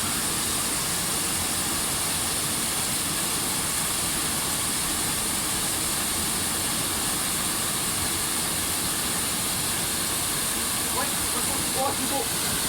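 Water pours down a waterfall in a steady broadband rush, loud and unbroken throughout, with a few faint voices near the end.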